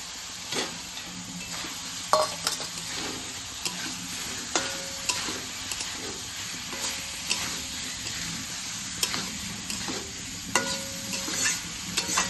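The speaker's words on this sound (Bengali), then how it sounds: "যে আলুটা ভেজে রেখেছি এটা দিয়ে দেবো এখন" Fried potatoes stirred into whole pulao spices frying in oil, including cinnamon, chilli, cardamom and bay leaf. A continuous hissing sizzle runs under repeated scraping and clattering strokes of a spoon in the pan.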